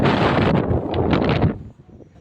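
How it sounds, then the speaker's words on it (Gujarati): Wind rushes into a moving bus at night as a loud, buffeting roar, then drops away sharply to quiet after about a second and a half. "સરસ પવન આવે છે બસમાં"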